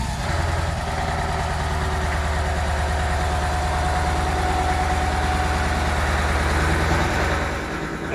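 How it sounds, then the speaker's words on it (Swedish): A Scania 140 truck engine idling, a loud, steady low-pitched diesel throb with an even rhythmic pulse, close and continuous, easing slightly near the end. "Alla går ut och startar sina lastbilar och rycker lite blått en stund."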